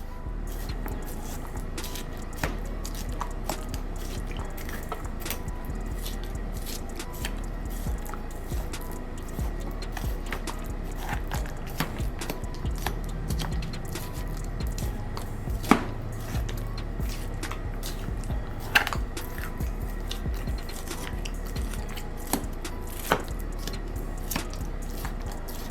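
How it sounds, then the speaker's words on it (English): Knife stabbing repeatedly into a marinated pork shoulder, sharp scattered thuds and wet squishes over a steady low hum, with no talking. "we're gonna stab some holes in this shoulder."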